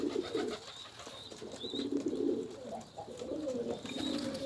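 Pigeons coo repeatedly at a rooftop loft where birds land and take off, the low throaty calls continuing steadily, fairly close, over soft background noise with faint higher chirps.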